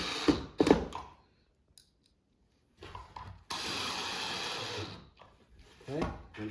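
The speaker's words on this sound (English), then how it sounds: "Simply screw it together into these pocket holes right here." A powered driver sends screws into the pocket holes of a wooden farmhouse corner shoe bench with dividers: short close bursts first, then one longer steady whir, separated by quiet pauses.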